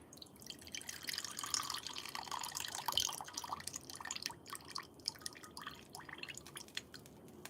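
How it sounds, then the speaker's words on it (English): Yam juice draining from a can into a bowl, a faint trickle with scattered drips and splashes, quiet and close, no talk. "Drain out that yam juice."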